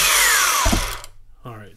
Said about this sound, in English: I got my sander.